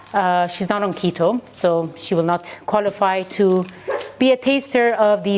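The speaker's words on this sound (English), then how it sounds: "She starts barking." Small dog barking in a home kitchen, a string of sharp yips and barks that carry on under someone talking nearby.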